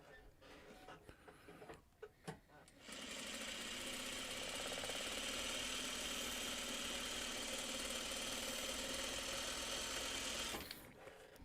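A sewing machine runs steadily, stitching a 1/2 inch seam for about eight seconds after a few brief handling clicks, with a continuous mid-pitched mechanical whir and vibration.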